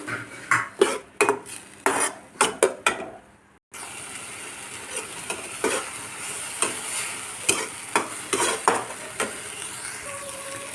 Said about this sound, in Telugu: ఇది కూడా అంతే కొద్దిగా ఆయిల్లో వేసుకుని బాగా వేగనివ్వాలి